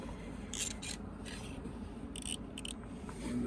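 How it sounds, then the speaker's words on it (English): Synthetic winch rope being cut with a blade where it is tied onto the drum of a KOLVOII 11,500 lb winch on a Polaris Ranger, heard as a few short, close scraping and snipping bursts over a steady low background hum. "So you just cut the rope"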